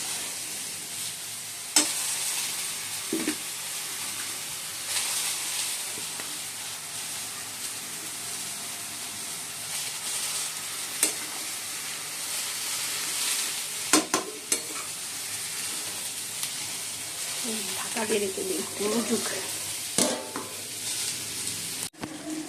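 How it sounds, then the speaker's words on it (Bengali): Yardlong beans and potatoes fry in a pan with a continuous dense sizzle, periodic scraping and clacking as a spoon stirs them, close and steady throughout with no talk. "এই বন্ধুরা বরবটি আলু ভাজা হয়েও গেছে আমরা নামিয়ে দেবো"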